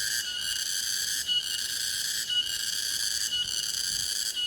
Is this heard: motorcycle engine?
no